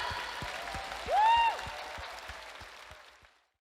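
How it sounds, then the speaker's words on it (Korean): A church congregation at a Sunday service applauding, fairly faint, even clapping spread across the room with a sustained tone over it midway, fading out into silence. "하나님께 영광의 박수 올려드리기 원합니다."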